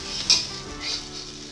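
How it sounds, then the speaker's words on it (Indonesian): Chopped chives and egg stir-fry in a pan with a close, lively sizzle. There is a brief scrape and clatter of a spatula stirring, with no talk. "Daun kucai tumis dengan telur"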